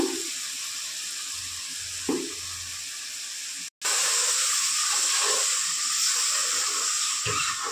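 Spices and tomato cook in a pan for a curry, giving a steady loud sizzle and hiss with soft stirring sounds and a brief break partway through.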